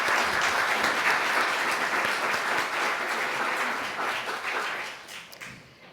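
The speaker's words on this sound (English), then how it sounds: "So I just want to give them a round of applause." An audience applauds event volunteers at a talk, a full room of steady clapping that holds strong and then fades out in the last second.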